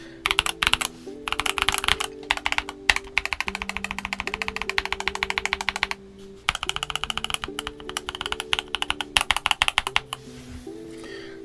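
Fast, continuous clacking of typing on Tecware Phantom mechanical keyboards, with dense bursts of keystrokes and brief pauses, close and crisp over soft background music.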